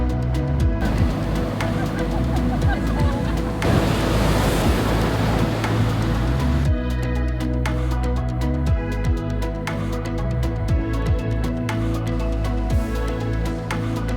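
Steady broadband surf washing continuously at Ocean Beach, San Francisco, Pacific waves rushing in and wind buffeting the microphone; no voices stand out.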